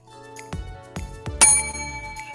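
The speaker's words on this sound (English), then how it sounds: "Every pun these punsters make, a bell will ring." A bell rung during a live improv comedy game, with several bright metallic dings in quick succession, each ringing out with a long sustained tone, close and clear.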